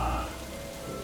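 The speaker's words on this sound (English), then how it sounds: "The rain still fell in sheets" Heavy rain falls in a dense, steady hiss of drops on surfaces, loud and continuous over a brief moment with no other sounds.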